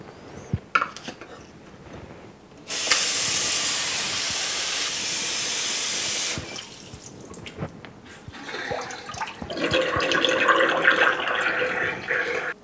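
Tap water runs steadily into a kitchen sink and drains through newly fitted pipes beneath a replaced garbage disposal, a broad hissing rush that holds for a few seconds between quieter clinks and bumps of handling.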